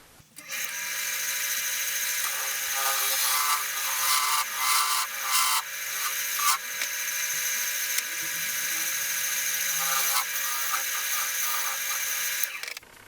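Steady whirring of a spinning wood lathe turning a wood vase, with a tool scraping and rubbing against the wood, continuous and fairly close.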